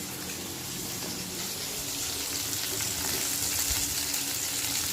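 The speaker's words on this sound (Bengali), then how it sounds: "এই যে আলুটা দিয়ে এবার ভাজবো" Potato pieces frying in a pan with ridge gourd and green chillies for Bengali aloo posto, giving a steady close sizzling hiss that holds evenly throughout, with no voices.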